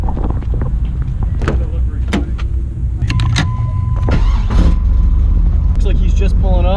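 A 1987 Chevrolet Camaro IROC-Z drives along with a steady low engine rumble and road noise close to the microphone, while people talk over it inside the car.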